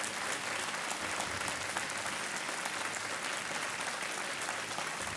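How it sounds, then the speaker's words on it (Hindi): Steady, dense applause from a studio audience on the KBC quiz show, continuous and even throughout with no talk over it. "तालियां बजती रहें"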